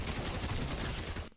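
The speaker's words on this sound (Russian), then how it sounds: "Второй выстрел." A shotgun blast in a video game fills the moment loudly and densely, then cuts off abruptly.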